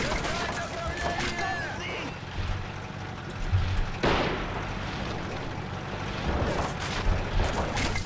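Artillery fire in Men of War: Assault Squad 2, a run of heavy booms and crashing impacts across a dense, noisy battle mix, with a player talking over it.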